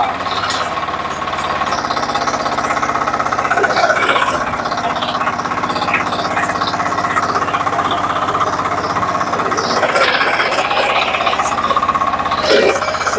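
A power tiller engine runs in second gear with a loud, steady chugging knock close by, and people talk briefly over it.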